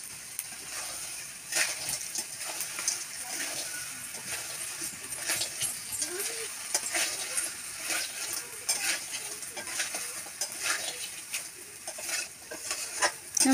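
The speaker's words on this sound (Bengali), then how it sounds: "ভালোভাবে নাড়াচাড়া করে নিচ্ছে।" Crabs stirred through fried spice paste in a pan, with repeated spoon scrapes and clanks over a low, steady sizzle. The sound is moderately close and continuous, with no talking.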